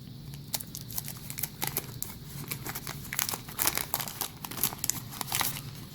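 A 1988 Flair Baseball card pack wrapper is torn open, giving close, steady crinkling and crackling of foil plastic with sharp tearing bursts throughout, no talk.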